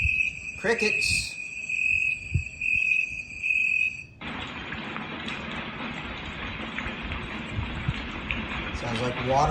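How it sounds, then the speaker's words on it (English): Crickets chirp in a rapid, high trilling pulse from a galaxy projector nightlight's small speaker, followed by a steady rumbling train-like wash, with a voice talking early on. "Crickets."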